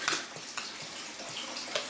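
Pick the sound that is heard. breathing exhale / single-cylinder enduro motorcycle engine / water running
water running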